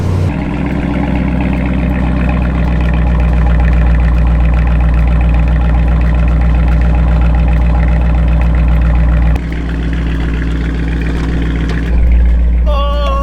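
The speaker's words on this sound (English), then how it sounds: "I can just hear the Challenger over the Miata" A Dodge Challenger R/T's engine runs at a steady, loud idle right nearby, its rumble continuous and even, heard from inside or beside a Mazda Miata.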